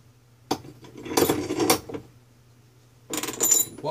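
Metal washers and a bearing handled and slid onto parts while a trike is assembled, a few bursts of small metallic clinks and rattles close by, separated by quiet pauses.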